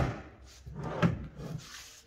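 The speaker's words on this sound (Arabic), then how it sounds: "وهنا 2 درج." Wooden drawer of a bedroom bench sliding open or shut, a short close wooden scrape and thump with a brief rattle, heard alone.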